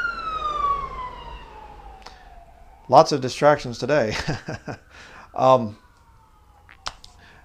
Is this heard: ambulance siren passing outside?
yes